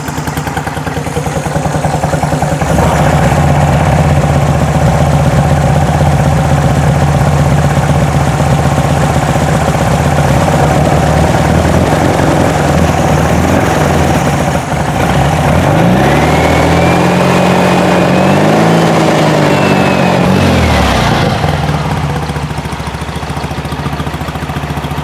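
Close, loud and steady running of a 1972 VW Beetle's dual-carb engine, idling with a rough, uneven note, then revving up and falling back once midway before settling to idle again.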